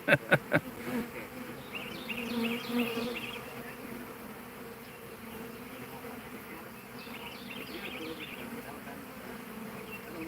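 Steady insect buzzing of many honeybees swarming close around the head during a hive removal, after a few sharp knocks at the start, continuing unbroken throughout.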